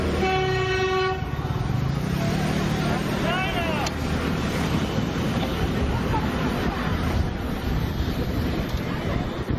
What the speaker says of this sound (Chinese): 轻轨列车按喇叭提醒